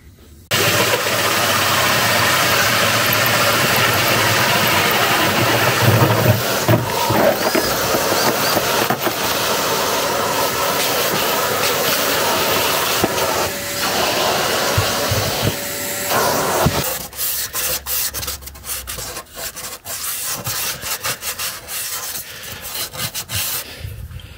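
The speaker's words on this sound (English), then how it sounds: "I'm going to use a hole saw just to cut through there" A loud continuous grinding whir of a hole saw cutting through a campervan, with a vacuum roaring steadily underneath, then the cutting stops.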